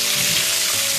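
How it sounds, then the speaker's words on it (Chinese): A fish head sears in hot oil in a pan that already holds fried chili bean paste, giving a steady, loud, dense sizzle that runs without a break. "把这个鱼头一滚，倒下去，煎一下"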